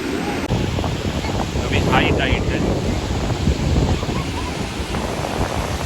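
Sea waves surging onto a beach at high tide, a steady broadband wash of surf mixed with heavy wind buffeting the microphone, with brief faint voices partway through.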